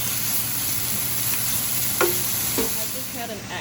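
Steak slices sizzle in a frying pan for a Philly cheesesteak, a loud, steady crackling hiss with a few utensil scrapes and stirs near the end.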